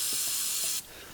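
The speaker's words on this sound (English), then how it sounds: "just spray this down with brake cleaner" An aerosol can of brake cleaner blasts a loud, bright hiss onto car brake parts for under a second, then stops abruptly, leaving faint background noise.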